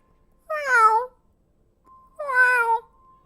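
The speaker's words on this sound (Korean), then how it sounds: "근데 어디서 갑자기 고양이가 엄청 시끄럽게 우는 거야" Two loud, drawn-out cat yowls, each about half a second long, separated by a short pause, close by with no other sound around them.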